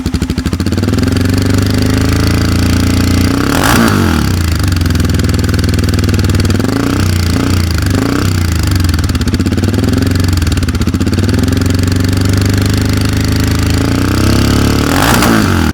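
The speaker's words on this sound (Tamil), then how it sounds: "ஸோ இதுதான் வந்து இந்த எக்ஸாஸ்டோட ஸ்டாக் சவுண்ட் அப்படின்னு சொல்லலாம்." A Royal Enfield Himalayan 450 motorcycle fitted with a Silver Stallion full-system exhaust idles steadily with a deep, loud thumping rumble. A few short throttle blips rise and fall over the continuous close-up engine note.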